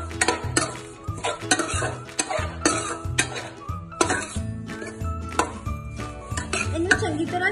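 A spoon repeatedly scrapes and clinks against a pan while stirring a besan and dry fruit ladoo mixture with walnuts, almonds, cashews and raisins, in an uneven rhythm of close knocks, with a faint voice in the background.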